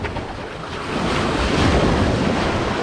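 Ocean waves at Helen Beach on the north coast of Trinidad, with surf washing in as a broad continuous roar that swells louder partway through, mixed with gusty wind buffeting the microphone.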